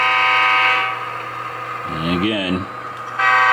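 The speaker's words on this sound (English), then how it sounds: "got a honk for the vagrants coming through here." Short honking tones from an Athearn GP15-1 model locomotive horn on a layout, sounding for about a second and rising and falling in pitch, with someone talking before and after.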